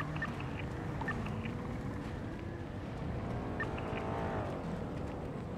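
Engine of a purple Mercedes car driving close by in a multiplayer video game, a steady droning hum with shifting pitch, no talking over it.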